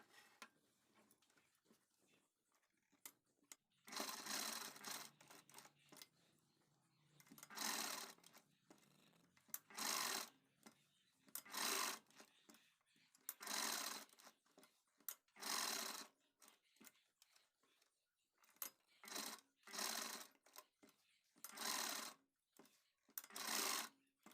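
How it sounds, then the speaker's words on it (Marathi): A sewing machine stitching a blouse sleeve, running in short bursts of rapid mechanical whirring separated by quiet pauses, close and fairly faint, with no talking. "इथे मी टिप टाकून स्टिच करून घेते"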